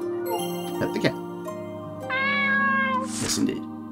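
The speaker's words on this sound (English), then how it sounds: "pet the cat." Cat in the game Voidswept meowing several times while being petted, with jingling chimes and a game music background, the meows fairly clear and mid-loud.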